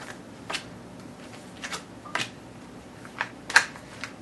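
Tarot cards shuffled by hand at close range, a series of soft, irregular papery riffles and slaps spaced about half a second apart in a quiet room.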